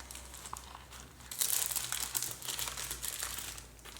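Paper envelope handled and turned over, with crinkling and rustling that swells in the middle and continues close up, no voices.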